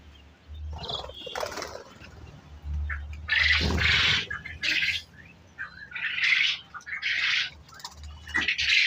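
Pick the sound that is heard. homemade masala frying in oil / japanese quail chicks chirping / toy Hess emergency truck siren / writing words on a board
japanese quail chicks chirping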